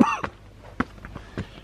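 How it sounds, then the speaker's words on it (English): A person with a sore throat coughs several times in short, harsh bursts spread across under two seconds, close and moderately loud, with no speech. "Want to cough all the time."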